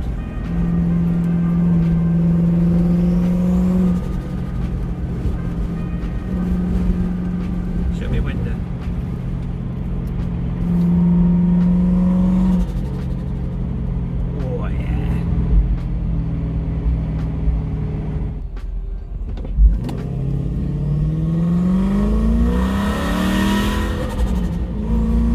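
A Lexus LS400 with a rear-mounted turbo running at 3 psi revs repeatedly, the engine note rising and falling in several climbing pulls with a deep rumble, close and loud, with people talking intermittently over it.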